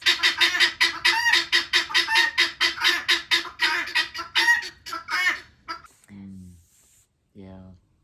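Backyard guinea fowl call loudly and nearly nonstop in a dense run of harsh, repeated cries for several seconds, then break into a few separate honking calls with short pauses between them.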